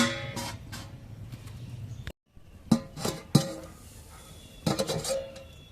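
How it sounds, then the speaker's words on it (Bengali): Metal pot lid lifted off a cooking pot of half-boiled lentils on a home stove, with several sharp clanks and clinks of metal against metal, a brief silence, then more rattling knocks close by. "ঢাকনাটা খুলে নিলাম"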